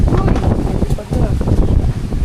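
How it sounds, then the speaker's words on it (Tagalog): Strong wind during a rainstorm with heavy rain, roaring and buffeting loudly against the microphone in continuous gusts, a low rumbling rush that swamps everything nearby. "Sabi, lakas ang hangin no."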